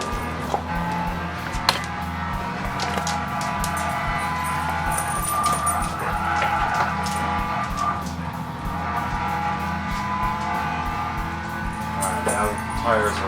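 A car runs a hot lap on warm tires in Gran Turismo 6, with a continuous droning engine note and occasional tire squeal beneath someone talking.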